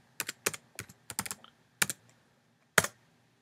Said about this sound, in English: So we'll go ahead and type characters.